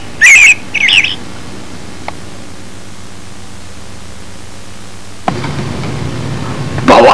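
An electronic toy bird gives short, loud synthetic chirps when touched: two quick bursts at the start, a long near-silent pause, then another chirp at the end over faint room noise.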